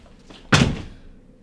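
A door opens with a single short, solid thunk close by, a brief knock of wood and latch followed by quiet room tone, with no voices over it.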